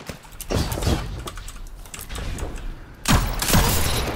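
Gunfire and impacts from a Destiny 2 Crucible match, with bursts of sharp shots and clattering mechanical effects over a busy game background, loudest near the start and again toward the end.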